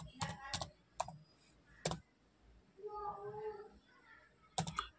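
Keystrokes on a computer keyboard as a shutdown command is entered in Windows 11, several quick clicks in short bursts with a pause between, near and moderately loud, with faint murmuring in the gap.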